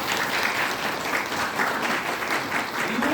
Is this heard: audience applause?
yes